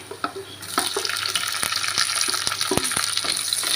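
Sliced onion with ginger, garlic and green chilli hitting hot oil in a pan, a loud close sizzle that stays steady while a spoon clacks against the pan in sharp repeated knocks.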